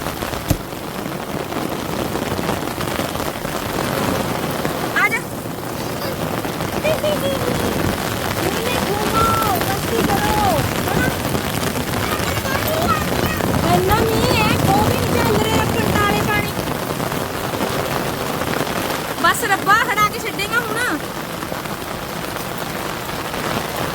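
Heavy rain pours steadily in Punjab during flood-like conditions, a dense continuous patter on surfaces, with voices talking and calling intermittently underneath.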